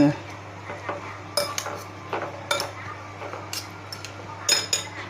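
Noodles and pork-ball toppings tossed with seasoning in a bowl, with utensils scraping and clinking against the dish in irregular bursts, close and fairly loud.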